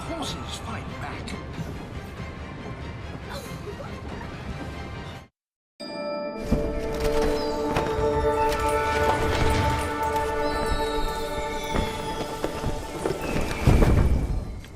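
Horses gallop with rapid hoofbeats, neighing and whinnying over the clatter, broken by a short silence before the loud, busy galloping resumes.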